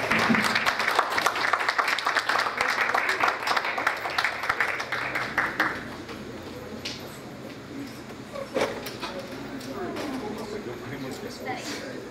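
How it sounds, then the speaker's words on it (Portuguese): Audience at a legislative council session stands and applauds to honor the national flag, a burst of crowd clapping that fades out after a few seconds, followed by quieter room noise and scattered sounds. "salvemos o pavilhão nacional com uma salva de palmas"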